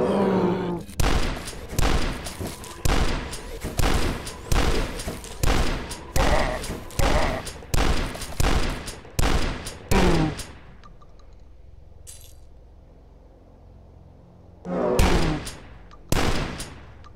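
Dual-wielded shotguns fire in the retro shooter Dusk, a rapid, regular run of loud, booming blasts with a pause and then a few more shots near the end.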